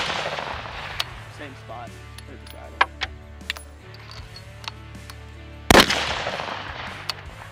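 Rifle shots from a 6.5 Creedmoor at an outdoor range crack out sharply, one loud nearby blast standing out among fainter reports, with people talking over a steady low hum.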